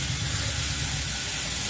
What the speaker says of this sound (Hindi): तड़का हमारा रेडी है, चलिए कढ़ी पे हम डाल देते हैं।